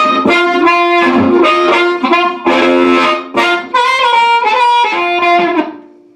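Harmonica through a 1960s Sears amp model with small room reverb on a Fender Mustang, loud rough chordal phrases with short breath gaps between them, trailing off into a brief tail.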